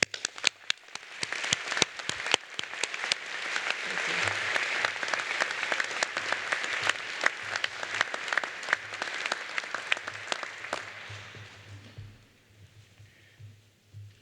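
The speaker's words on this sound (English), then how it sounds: "Please join me in giving a round of applause for our graduates." A large audience applauds graduates at the 2022 Penn Engineering doctoral commencement ceremony. Dense, sustained clapping lasts about twelve seconds, then tapers off quickly into a quiet room.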